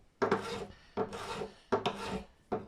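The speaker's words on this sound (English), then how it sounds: "Right, so I'm shaping the nut." Filing and shaping the nut of a Stagg acoustic guitar: four close, quiet rasping strokes in a steady back-and-forth rhythm, with short pauses between them and no voices.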